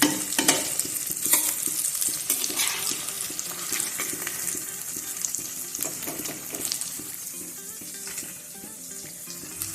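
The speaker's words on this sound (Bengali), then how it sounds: "এই দেখো, পনিরগুলো আমার লাল লাল করে ভাজা হয়ে গেছে। এবার পনিরগুলোকে তুলে নেব।" Paneer cubes frying in hot oil for paneer butter masala, a steady loud sizzle with occasional stirring scrapes running throughout, no voices.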